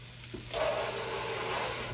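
A buttermilk blueberry pancake fries on a griddle: quiet at first, then a steady, close hissing sizzle takes over after half a second and holds.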